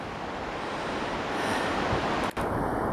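Elowah Falls, a waterfall in Oregon's Columbia River Gorge, fills the air with a steady, loud, broadband roar of rushing water that holds constant throughout, with no voices.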